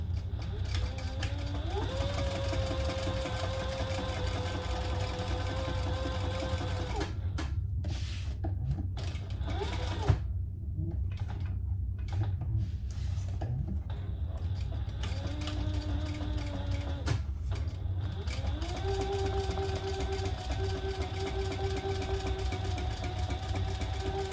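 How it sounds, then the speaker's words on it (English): A sewing machine stitches rows along a tote handbag, its motor whining steadily in several runs separated by brief pauses, close and fairly loud, with no talking. "So I did 2 rows of stitches there"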